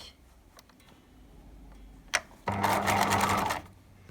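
A sewing machine stitching a fabric face mask, a quiet ticking start followed by a louder steady burst of rapid stitching for about a second, with no talk.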